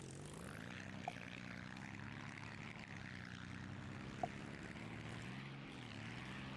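Steady droning aircraft engine from a WWII-style plane in the BeamNG.drive driving game, a continuous faint propeller hum with small pitch shifts and no voices.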